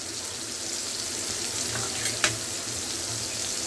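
Onions and tomatoes sautéing in a pan for intestine curry, a steady close sizzle with a couple of brief spoon clinks near the end, no talking.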